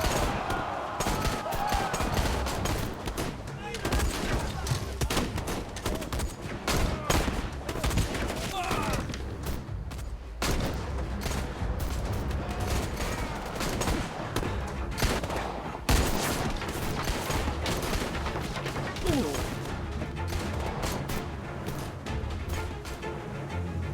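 Gunfire fills a tense firefight in the video game Syberia: The World Before, with dense bursts of shots and impacts rolling on continuously at loud volume, with brief lulls, under faint voices.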